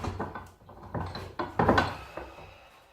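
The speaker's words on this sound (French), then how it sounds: "on desserre l'étau" A metal vise is loosened, releasing a wooden bar being worked on for a buffadou: a run of close mechanical creaks and ratcheting clicks, with a louder grinding burst near the middle, heard alone without speech.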